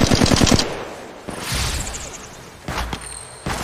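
Rapid automatic gunfire from the mobile battle royale game Apex Legends Mobile, a loud close burst at the start, then scattered single shots and short bursts later.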